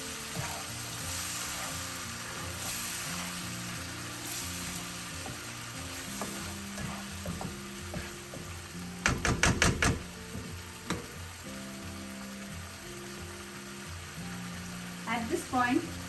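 Tomato puree masala frying in oil for fish curry, a soft continuous sizzle with intermittent scraping and stirring clatters from a utensil against the pan, heard close.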